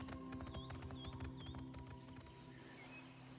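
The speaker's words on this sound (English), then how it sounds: "I heard footsteps." Rhythmic footfalls in the VR game Song in the Smoke, a steady clip-clop cadence of steps that fades after a couple of seconds, over a tonal ambient backdrop with faint bird-like chirps.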